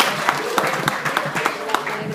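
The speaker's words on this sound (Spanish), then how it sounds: "un aplauso para la dama preciosa" Audience applause at a conference, a steady crowd of scattered hand claps with sharper individual claps standing out, moderately loud and continuous throughout.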